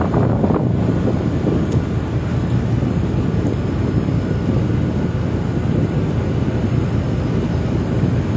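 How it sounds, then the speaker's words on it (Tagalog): Steady wind roars across the deck of a passenger ship at sea, sailing from Calapan, with a constant low rumble of the vessel underneath, loud and unbroken throughout with no talk. "Ito may hangin dito, doon wala"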